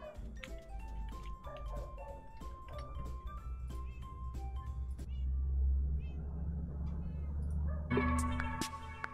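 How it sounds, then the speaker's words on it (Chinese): A cat meows repeatedly in the video game Minecraft, short clear calls over a steady run of plinking game music notes that turns brighter and busier near the end. "猫咪，这只臭猫就是你"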